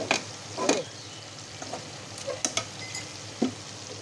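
Dried fish fries in hot oil with a steady low sizzle, while a few sharp utensil scrapes and taps come up close at irregular moments; no one speaks.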